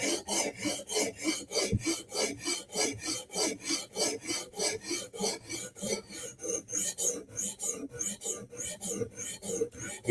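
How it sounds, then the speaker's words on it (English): A knife blade stroked against a sharpening stone in steady, even back-and-forth rasping passes, about three per second, close and dry, with no talking. "Now we're going to sharpen."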